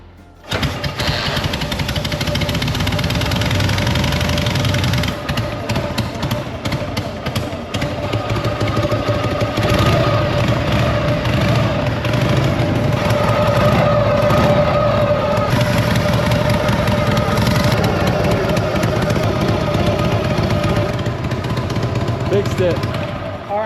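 Harley-Davidson Panhead motorcycle engine running steadily after starting, a loud continuous rumble with a mechanical clatter, close by, with people talking over it throughout.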